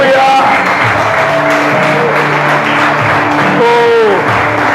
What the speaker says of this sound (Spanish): Alguien que pueda creer y darle un fuerte aplauso a Dios.